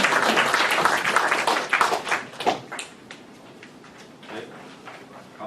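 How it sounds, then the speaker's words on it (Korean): Audience applause at a philosophy colloquium lecture in Korea, starting as a burst of clapping that thins into scattered taps and fades to quieter claps. "큰 박수 부탁드립니다."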